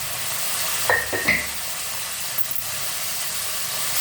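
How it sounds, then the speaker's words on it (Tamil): Masala sautéing lightly in a pan for kuzhambu, a dense, steady hiss of frying with a couple of brief scraping stirs, close and continuous, no speech. "அதனால் சும்மா லைட்டாக வறுபடணும்."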